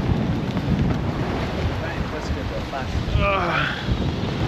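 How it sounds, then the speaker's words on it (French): Steady wind roaring over a sailboat at sea with a genoa set, loud and continuous buffeting against the microphone, with faint water wash and a brief distant voice. "On a enfin un petit peu de vent."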